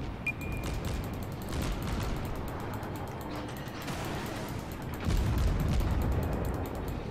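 Naval gunfire from a level 1 cruiser, the Erie, in World of Warships: repeated distant cannon shots and mechanical clatter over a steady ocean-and-engine rumble, with a heavier salvo near the end.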